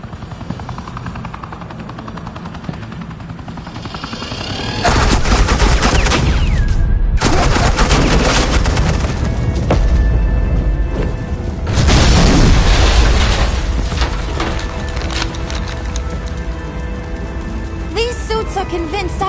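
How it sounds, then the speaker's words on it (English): Batman video game combat with bursts of gunfire and booming explosions over a loud helicopter drone, the heavy firing swelling in two long, dense stretches. "suppressing fire"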